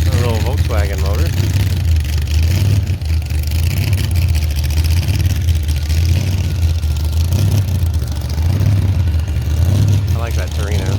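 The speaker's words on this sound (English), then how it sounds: "A little Volkswagen motor." A small Volkswagen engine idles steadily and loudly close by, with a low, constant throbbing hum under the whole stretch, and voices talk over it throughout.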